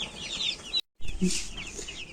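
Three-day-old broiler chicks kept in a village shed, peeping and clucking steadily at close range, their calls overlapping through the whole stretch with one brief silent gap partway through.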